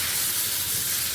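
Battered eggplant (brinjal) slices frying in hot oil, a steady dense hiss and sizzle that holds loud and even throughout with no pauses.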